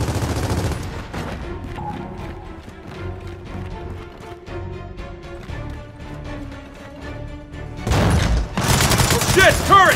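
Turret gunfire in Gears of War 4 hammers out in rapid bursts, loud at the start and again near the end, with musical tones and a voice under the action.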